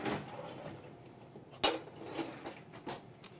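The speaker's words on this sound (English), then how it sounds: "I'll grab a spoon." Metal spoon picked up from among kitchen utensils during taco and guacamole prep, a sharp single clink standing out from faint rattling and handling noise, quiet and close.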